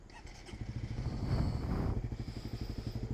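A Suzuki GSX-S 150 ABS motorcycle engine turning over and catching, then settling into a steady, rhythmic low idle putter close by.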